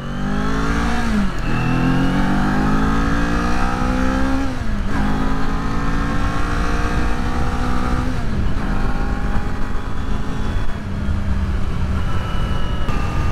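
Engine of a 2022 Kawasaki Z400 motorcycle on a ride, loud and close with steady droning and repeated rises in pitch through the gears, each followed by a drop at the shift.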